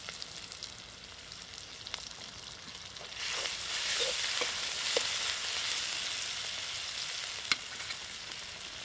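Masala with chopped tomato and salt for a king crab fry sizzles in a pan, quiet at first, then swelling into a steady frying hiss with scattered scrapes of stirring.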